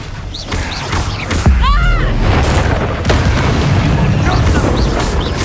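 A Bombarda explosion spell going off in Hogwarts Legacy: a loud booming blast with a crash and whooshing magical effects, among other game sounds and a voice speaking over it.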